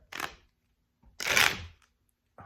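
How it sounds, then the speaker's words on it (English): Two quick bursts of tarot cards being shuffled, a short riffle then a longer one, close and fairly quiet, with a brief rustle at the end. "blindfolded shuffling is not for amateurs"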